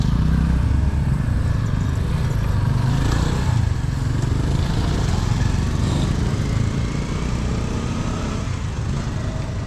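A motorcycle engine running close by, a steady loud rumbling idle that holds evenly throughout with light mechanical clatter on top.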